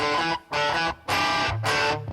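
A Gibson Les Paul electric guitar plays through distortion, giving four gritty, sustained chord strums broken by brief gaps, loud and close, with no voices.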